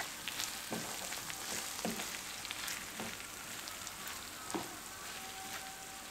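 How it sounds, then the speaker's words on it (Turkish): Soft scraping and occasional light taps of a utensil against a pot of stuffed grape leaf filling, over a faint sizzling hiss. "Şöyle iyice bir karıştırdıktan sonra ocağımı kapatıyorum."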